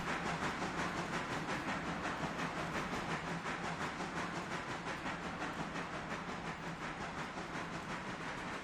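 Steam locomotive running light in the train simulation game Railroader, a steady dense rumble with rapid rhythmic chuffing and hiss, loud and continuous with no talk.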